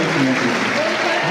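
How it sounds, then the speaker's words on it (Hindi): Dense audience applause fills the room, steady and loud throughout the brief moment, with crowd noise mixed in. "जोरदार तालियों से धन्यवाद दीजिए"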